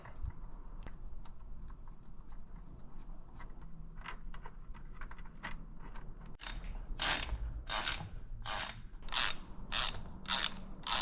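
Bolts being threaded and ratcheted in while a stiffener plate is fitted to a 4L65E automatic transmission, first soft clicking and handling, then a quick series of loud, sharp ratchet bursts close by with no talk.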